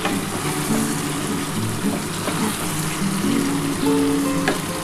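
Mutton and potato are sautéed kosha-style for a dak bungalow curry, a close, steady frying sizzle with soft bubbling and faint stirring scrapes.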